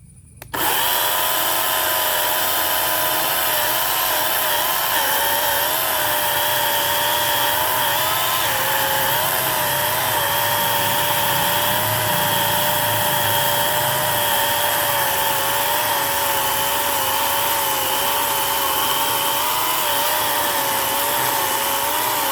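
A small YOUXIAN 40V battery chainsaw whirs at high, steady speed for a long stretch, its pitch dipping slightly as it bites into a neem wood log about six inches thick.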